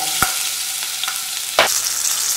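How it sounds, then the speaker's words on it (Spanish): Dried chiles, garlic and onion fry in oil in a pot with a loud, steady hiss, broken by a couple of sharp utensil taps and a brief surge of sizzling partway through. "Vamos a poner los chiles a freír. También vamos a poner el diente de ajo y la cebolla."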